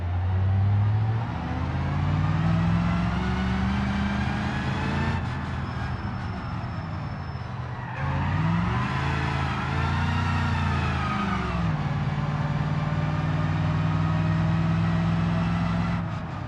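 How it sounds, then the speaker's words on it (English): A simulated car engine in a BeamNG driving game, revving steadily in first gear with droning, rising and falling pitch sweeps as the throttle changes, loud and continuous throughout. "I am in first gear as well. Okay, I need to be careful with that clutch."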